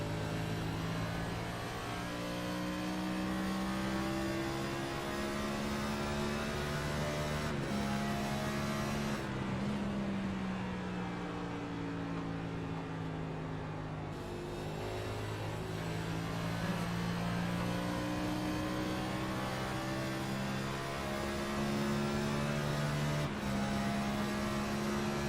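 Onboard race car engine during a full lap of Gateway's World Wide Technology Raceway in the iRacing simulator, a steady droning roar with strong harmonics that dips briefly twice, as if lifting for the turns, then climbs again. No talk.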